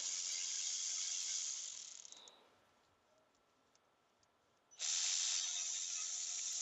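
Ratchet wrench loosening the camshaft cover bolts on a Kia Picanto engine, with steady rapid clicking that runs for about two seconds, drops to a faint tick, then resumes loud and close.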